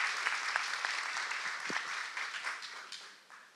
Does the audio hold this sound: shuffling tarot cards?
no